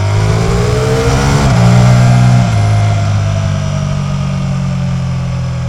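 Loud and close, a Ducati Multistrada V4 RS motorcycle accelerates hard out of a corner, its engine note rising steadily, then stepping down at a gear change before holding a strong, droning pull.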